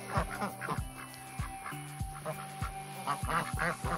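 Silver Appleyard ducks, a larger duck breed, quack repeatedly in a flock at close range, with overlapping honking calls forming an irregular chorus over faint outdoor background hum.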